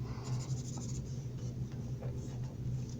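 Pen or pencil scratching steadily across paper while writing a calculus equation by hand, a continuous close scribbling texture with small stroke bursts, heard alone without talk.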